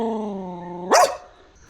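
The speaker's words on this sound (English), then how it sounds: "a barking dog," A single close dog bark from a village near mountain roads, preceded by a sustained whine or growl that rises into one sharp bark, then fades to quiet.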